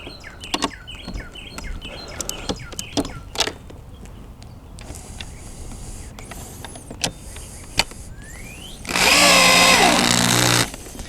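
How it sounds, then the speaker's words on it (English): Power drill driving screws into a skateboard, a single loud whirring burst of about two seconds near the end, after quiet scattered clicks and handling noises with birds chirping in the background. "I'm just drilling until it's a little tight"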